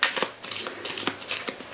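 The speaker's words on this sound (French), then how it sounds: "on va prendre le paquet des 27 cartes déplacement, on va bien les mélanger" Movement cards from a 27-card board game deck being shuffled by hand, several quick riffling bursts of papery flutter and snaps in close succession, close and fairly quiet, with no talking.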